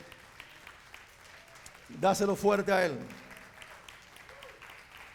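A short, loud burst of clapping from a church congregation, lasting about a second, with a voice speaking before and around it in a reverberant church.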